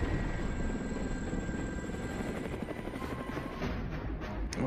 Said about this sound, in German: weil die auch mit ihren komischen Helis über die Viecher fliegen